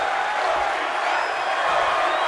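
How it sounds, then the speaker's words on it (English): Wrestling crowd in the WWE 2K22 video game roars and cheers steadily in a loud, continuous wash of voices during an NXT match, with no distinct pauses. "The sound of this crowd is deafening,"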